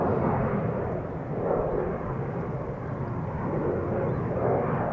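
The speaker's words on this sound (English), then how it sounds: "in a few moments, Ryanair 737-800 flight 421 will be flying to Dublin." A Ryanair Boeing 737-800, 18 years old, bound for Dublin from Schiphol Airport, roars steadily in a broad, distant rumble of jet engine noise during its takeoff run.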